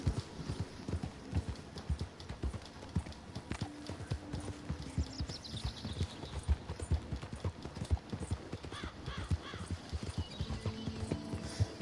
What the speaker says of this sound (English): It's time to go rolling on the horse.